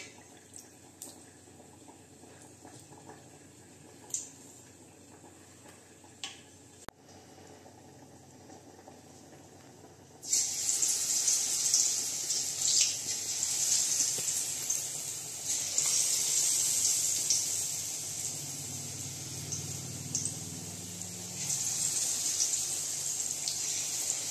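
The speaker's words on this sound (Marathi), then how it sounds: "आधी बटाटा धुवायचं स्वच्छ, मग साल काढायची, मग पाणी टाकायची" Potatoes are rinsed under running tap water: quiet drips and handling at first, then the faucet opens to a loud, steady gush that continues to the end.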